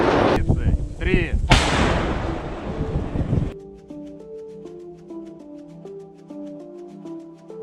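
Russian Msta-S self-propelled howitzer firing: a heavy, booming discharge with a sharp crack and rumbling tail in the first few seconds, followed by music taking over.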